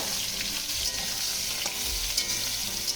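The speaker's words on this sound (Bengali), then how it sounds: "সামান্য একটু ভাজা ভাজা করে নেব।" Sliced ridge gourd pieces fry in a pan, giving a steady close sizzle with stirring scrapes throughout and no talk.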